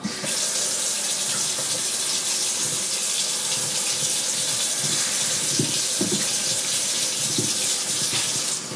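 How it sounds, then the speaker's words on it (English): Tap water runs steadily into a sink while beef is rinsed, a constant close hiss of flow with small splashes and clatters, no talking. "So we have to wash off this beef."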